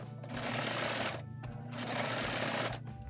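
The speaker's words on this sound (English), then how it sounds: "I'm gonna bring my sewing machine over here. I'm just gonna sew right along." A sewing machine stitches a quarter-inch seam in fabric for a crib bumper, a fast steady mechanical whir with a brief pause before it runs on, close and fairly loud.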